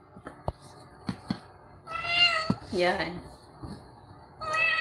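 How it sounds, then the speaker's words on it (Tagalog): A pet cat meows repeatedly at close range, drawn-out wavering calls separated by soft taps and clicks, with a voice speaking briefly at the start. "Nandito yung pusa ko eh."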